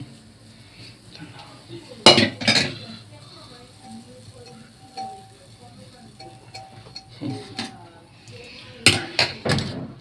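A wok and metal pots clank and clatter in a home kitchen while potatoes are being cooked, with sharp bursts of clanging around the beginning and end and a person talking in between.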